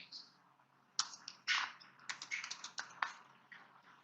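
Quick keystrokes on a computer keyboard while bibliographic data is entered into SLiMS library software, coming in irregular bursts of clicks with short pauses, close and fairly quiet.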